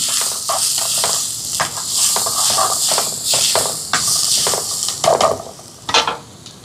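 Crushed ginger and garlic sizzle and hiss in a hot pan for Jaffna chicken puttu kottu, with a steady close fry broken by scraping, shuffling stirs and a few sharp clatters.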